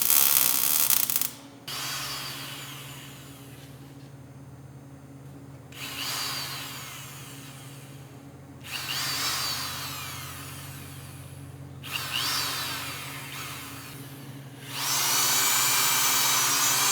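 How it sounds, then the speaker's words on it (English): Power drill boring holes in metal on a John Deere 42 combine under repair, four sustained bursts of a few seconds each separated by pauses, steady and moderately close over a low constant hum. "Let's go drill some holes and throw it on"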